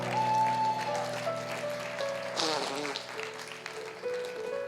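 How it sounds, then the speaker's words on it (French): A church congregation claps and cheers for Jesus during a worship gathering, with busy applause under sustained musical tones and voices calling out amid the crowd. "On acclame Jésus."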